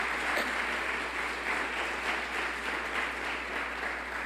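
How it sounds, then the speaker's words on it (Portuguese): Church congregation applauding together in a steady, sustained burst of clapping that fills the room, with no talking over it. "Se você crê, aplauda mais uma vez o nome de Jesus."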